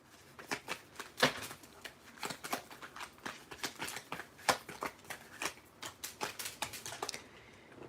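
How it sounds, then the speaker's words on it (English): Tarot cards are flicked and set down on a table, a quiet run of soft, irregular slaps and papery clicks. "Let me throw you a couple of cards here down."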